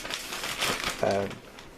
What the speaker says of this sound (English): plastic bag and shake it up so get the